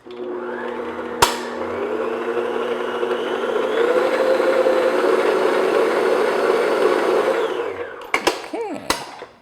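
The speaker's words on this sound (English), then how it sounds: "start your mixer on low speed because you don't want that flour coming up in your face" An electric stand mixer runs steadily on low speed, mixing flour into coffee cake batter, with a sustained motor whir from start-up to shut-off and a few clinks at the end.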